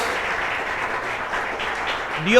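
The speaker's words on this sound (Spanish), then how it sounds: "Démosle un fuerte aplauso a nuestro Señor" Applause from a church congregation during a sermon, praising the Lord, a soft even patter of clapping that ends as a voice begins.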